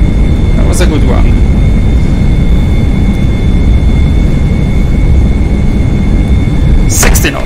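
Airbus A320 reverse thrust roaring after landing in a flight simulator, a loud, steady, broadband rumble that holds throughout with a faint tonal whine, while voices talk over it.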